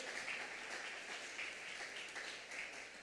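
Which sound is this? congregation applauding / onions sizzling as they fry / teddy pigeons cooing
congregation applauding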